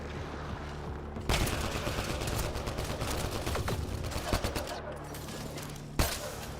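Gunfire in the sci-fi shooter Mass Effect Andromeda, rapid bursts of shots crackling continuously with a few sharper loud reports standing out, close and dense, with a voice briefly mixed in.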